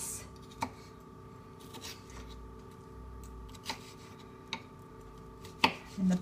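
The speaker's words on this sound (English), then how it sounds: "cut this with my knife into some onion strips." Knife cutting an onion into strips on a board, a handful of sharp separate chops spread over several seconds against a steady low hum, fairly faint, with no talking.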